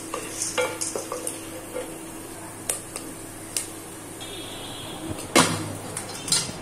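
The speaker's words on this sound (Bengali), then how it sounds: "এখানে কর্নগুলো ফুটে ওঠার সাউন্ড পাচ্ছেন নিশ্চয়ই।" Popcorn kernels popping in hot oil inside a covered pan, with scattered sharp pops over a steady sizzling hiss and a few louder pops toward the end, moderately quiet with no talking.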